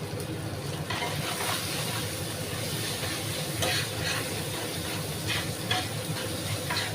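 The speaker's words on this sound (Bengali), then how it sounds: "তো ভালোভাবে আমি মশলাটা কষিয়ে নেব" Masala fries in hot oil for a rithe fish curry, a steady sizzling hiss with intermittent scraping stirs, close and moderately loud with no talk.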